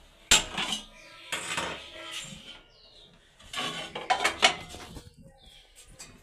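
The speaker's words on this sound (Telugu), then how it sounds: "దాంట్లో ఒక చిన్న ప్లేట్ పెట్టుకుని" A small metal plate is set down inside a thick pot on a stove while preparing egg cake. Two bursts of close metallic clatter and scraping ring out, with quieter clinks in between.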